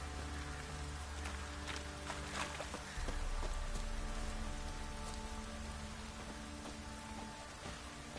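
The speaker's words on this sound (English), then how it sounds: "Stupid rain." Steady rain pours down in the video game The Witcher 3: Wild Hunt over a constant low rumble, with scattered drops tapping nearby surfaces and no voices.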